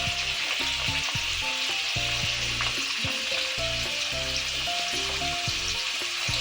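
Raw mango chutney with cumin bubbles and sizzles in a pot, a continuous loud frying hiss, with a steady low repetitive pattern running beneath it.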